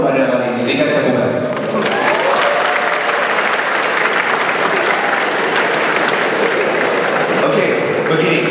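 Loud, sustained applause from a forum audience fills the stretch, beginning with some speech and a steady crowd roar before dense clapping takes over after the first second and a half and continues without pause.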